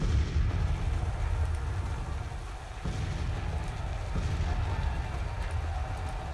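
Civil War artillery guns firing in Grand Tactician: a continuous loud rumbling roar of cannon fire with a few sharper bursts, steady and dense throughout with no pauses.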